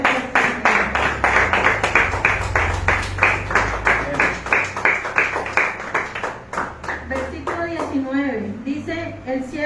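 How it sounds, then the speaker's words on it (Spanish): A church congregation claps together in a fast, steady rhythm of sharp hand claps, loud and close, which breaks up near the end as a voice begins to speak. "Démosle un aplauso por esto"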